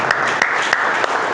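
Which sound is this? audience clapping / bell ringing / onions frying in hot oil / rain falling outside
audience clapping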